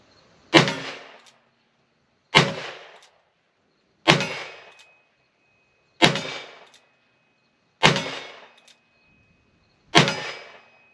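.45 Colt Single Action Army revolver fired from the hip at large steel targets, six sharp loud shots evenly spaced about every second and a half, each with a short ringing decay, no talking.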